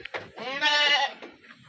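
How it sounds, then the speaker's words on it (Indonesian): A goat on a remote village farm lets out one drawn-out, wavering bleat, fairly close and alone, with a few soft knocks before it. "Ada beberapa kambing di sini."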